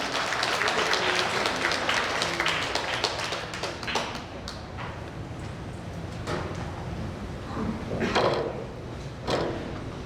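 Audience applause at a Korean redevelopment association meeting as candidate number 1 for association chairman is introduced, a dense crowd clatter of clapping that swells and fades over about ten seconds.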